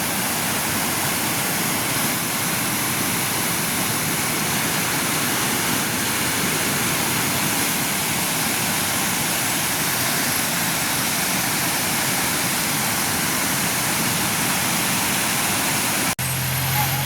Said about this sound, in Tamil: அந்த கல் மலைக்குள்ளால எப்படி தண்ணி பாயுதுன்னு பாருங்க.